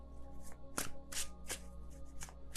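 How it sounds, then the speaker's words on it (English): A tarot card deck is shuffled by hand at close range, with several soft riffling bursts and one sharper snap against a quiet background hum. "I can shuffle this deck"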